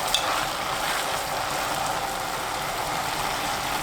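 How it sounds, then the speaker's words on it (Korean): Seaweed stir-frying over high heat in a pot for Korean seaweed soup with cod, giving a steady, even sizzle and hiss that carries throughout with no voices over it. "미역을 넣어요. 센 불로 2분 30초 볶아주세요."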